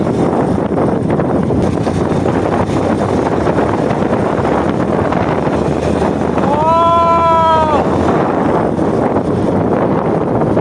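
Steady roaring wind buffets the microphone of a moving motorbike throughout, a constant rushing blast with a brief tonal whine rising through the middle.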